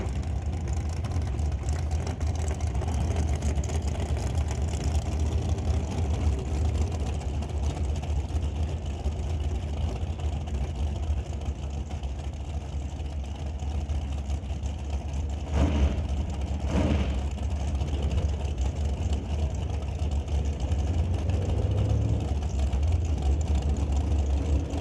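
Drag racing cars doing burnouts at an NHRA Northwest National Open Series event, a steady loud engine roar from the track with a couple of brief sharper bursts midway.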